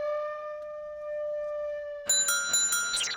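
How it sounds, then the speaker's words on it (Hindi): A bright electronic doorbell chime rings out twice in a ding-dong pattern after a steady, sustained tone, fairly clear and close with no talking. "घंटी मत बजाना।"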